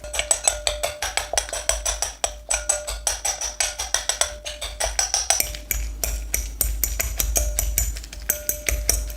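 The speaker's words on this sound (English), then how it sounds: "you just keep chopping it up." A knife chops food on a board in quick, regular strokes, a steady run of crisp close taps with no talking.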